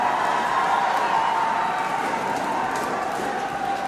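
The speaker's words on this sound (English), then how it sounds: "You can hear the cheer around the ground." Distant crowd cheering drifts across a sepak takraw venue from a men's doubles match on a neighbouring court at the Sepaktakraw World Cup, a steady, broad roar holding at even loudness throughout.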